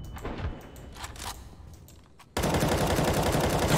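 CS:GO rifle spray: after quieter game ambience with scattered shots, a loud, dense burst of automatic fire starts abruptly and keeps going to the end.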